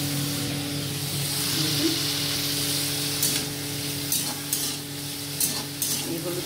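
Potatoes fry in a pan with salt and turmeric, a steady close sizzle with occasional scraping stir strokes, plus a low background hum.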